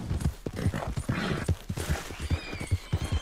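Horse hooves clip-clop steadily in Red Dead Redemption 2, an even run of close, moderately loud hoofbeats with no talking.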